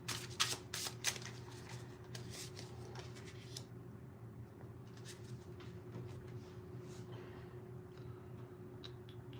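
Tarot cards being shuffled by hand, a burst of quick riffling flutters at the start followed by softer intermittent card rubbing and shuffling over a faint background hum.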